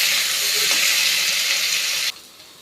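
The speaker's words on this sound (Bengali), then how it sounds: "আলুটা একটু ভেজে নেই, 2-4 মিনিট আলুটা ভেজে নেব" Boiled potato fries in a little oil in a pan, giving a steady broadband sizzling hiss that cuts off abruptly to a faint residue near the end, with no voices.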